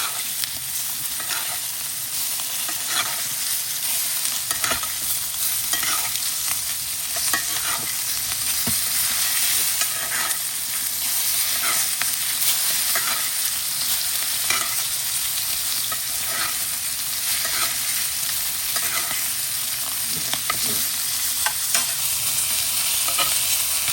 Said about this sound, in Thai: ตามด้วยเนย เป็นเนยละลายอย่างนี้นะครับ ตักราดบนเนื้อสเต็กนะครั